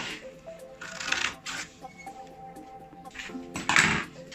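Scissors cutting fabric into a circle for a beret, a few crisp snipping strokes close to the microphone with light handling noises between them.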